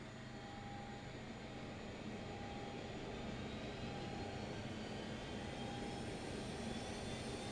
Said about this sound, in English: We'll go ahead and start right engine 2, and all we do is flip this down.